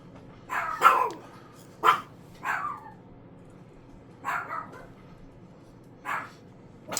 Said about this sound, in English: sorry about the dog in the back. He is barking.